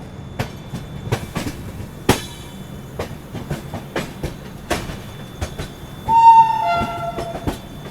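A train rolls along the tracks while passing another, its wheels clicking in a steady clickety-clack rhythm, and near the end a short horn sounds, loud and nearby.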